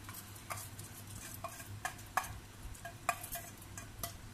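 Rice goes into boiling chicken stock in a claypot, giving scattered light clicks and taps over a steady low bubbling simmer, close by and with no voices.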